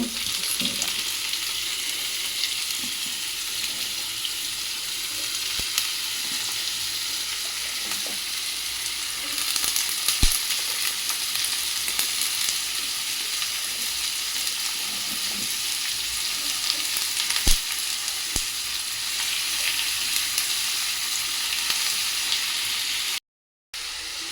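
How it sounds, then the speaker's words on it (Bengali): Sliced bitter gourd and potatoes fry in a pan, a steady hissing sizzle throughout with a few soft clicks of a spatula, close and even, no talking. "করলা আলু কেটে নিয়ে ধোয়া হয়ে গেছে, আমি এখন দিয়ে দিব।"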